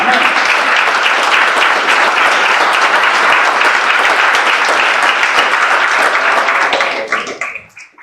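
Church congregation applauding during a Sunday morning service, a dense, steady wash of loud clapping that holds for about seven seconds before fading out at the end.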